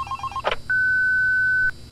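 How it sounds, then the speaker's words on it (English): A telephone rings once in the Five Nights at Candy's video game, a single steady electronic tone lasting about a second that follows a short burst of clicks and beeps. "Phone call."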